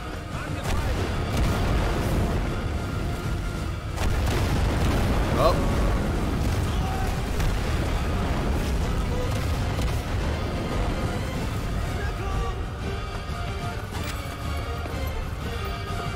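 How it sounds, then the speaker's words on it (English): Explosions in the shooter Sniper Elite V2 form a continuous heavy rumble of overlapping booms and bursts that stays loud for the whole stretch, with players talking over it. "Everything's exploding, man."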